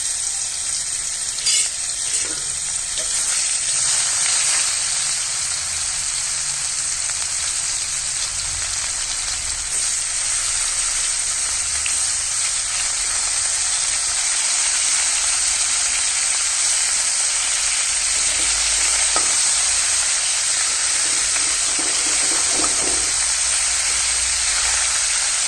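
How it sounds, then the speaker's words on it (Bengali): Baan fish frying in hot oil, a dense, steady, rain-like sizzle and crackle holding evenly loud throughout, with only a few faint knocks and no voices. "মাছটা ভেজে নিচ্ছি।"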